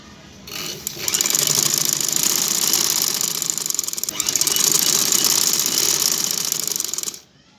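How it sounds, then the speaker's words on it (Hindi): Sewing machine running in two steady bursts of rapid mechanical stitching as cord piping is sewn onto the edge of a dupatta, loud and close with a brief pause between runs, no talk. "चलो अब हम आपको सिलाई लगाकर दिखाते हैं।"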